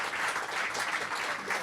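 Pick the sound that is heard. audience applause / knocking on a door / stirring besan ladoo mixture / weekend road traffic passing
audience applause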